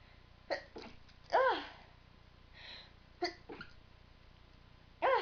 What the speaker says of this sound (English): I'm gonna sneeze in a minute.